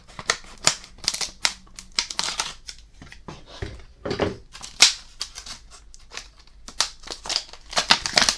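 A resealable hard plastic action figure box for a small Skeletor toy is worked open with sharp clicks, snaps and crinkly plastic rattles, close and intermittent with no talking.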